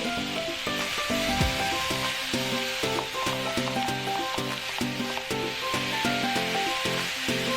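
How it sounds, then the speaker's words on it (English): Pork sizzles steadily in a very hot griddle pan, a continuous bright hiss over rhythmic background music. "When it is very hot, put your pork in. You will hear the sizzling."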